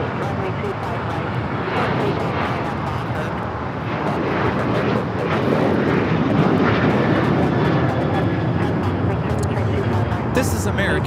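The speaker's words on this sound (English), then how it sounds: "This is American Airlines 791 taking off to Chicago on the 737-800" A Boeing 737-800 jet taking off from LAX, its engines roaring steadily and loudly throughout, growing slightly stronger partway through, with a voice talking over the noise.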